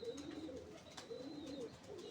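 Pigeons coo in a loft where a keeper handles birds with cut wing feathers, a low repeated burbling close by, with soft fluttering hints and no talk over it.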